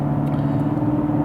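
A 2017 Lexus GS F V8 in Sport S mode gives a steady low engine drone from inside the cabin, brief and continuous, with no clear shift change.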